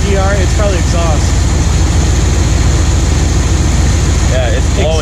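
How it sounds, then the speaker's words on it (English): Steady low engine rumble with exhaust hissing from a leak near the EGR gas recirculator, loud and continuous, with people talking over it. "Yeah, it's blowing exhaust out."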